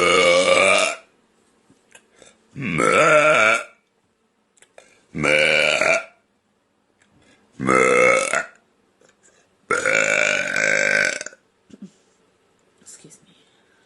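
A young blonde woman burps five times, each long, loud and close, with short quiet gaps between them.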